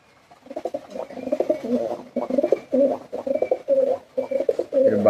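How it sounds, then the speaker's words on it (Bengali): A male pigeon gives repeated throaty coos in close, rhythmic bursts with short pauses between them, loud and near, with no talking. "এটা হচ্ছে নর কবুতর।"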